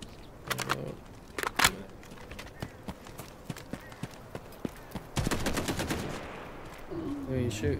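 Gunfire in the PvP shooter Delta Force Hawk Ops: scattered single shots and a couple of sharp bursts, ending in a dense sustained volley, with a voice speaking in the background.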